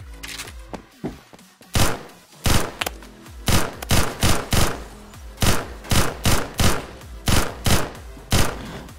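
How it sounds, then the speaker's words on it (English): A G11K2 rifle fires in Roblox Phantom Forces in repeated short bursts, punchy and loud, separated by brief gaps, with a few softer thuds at the start. "Cause my gun is shooting through the walls, bros."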